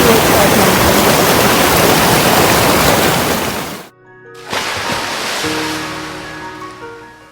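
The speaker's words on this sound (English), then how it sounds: "हमें ये वासुकी रिवर थोड़ा सा क्रॉस करना है" Vasuki river water rushing loudly on the Kedarnath trek at high altitude, a steady broadband roar that cuts off abruptly near four seconds, then returns somewhat softer with faint tonal sounds over it.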